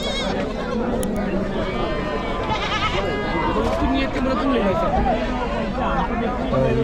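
Several sheep bleat repeatedly amid a busy crowd at a large goat and sheep market in Chakan, Maharashtra, with people chattering and talking nearby over constant background noise.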